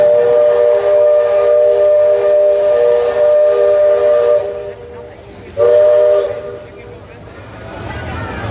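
The Liberty Belle riverboat's loud steam whistle at Magic Kingdom blows a long sustained chord, cuts off, then sounds again briefly before fading into open outdoor ambience.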